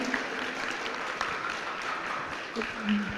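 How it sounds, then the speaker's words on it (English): Event audience clapping in a steady dense wash, moderately loud, with a few sharper claps standing out and no clear voices over it. "Give them a huge round of applause, everybody."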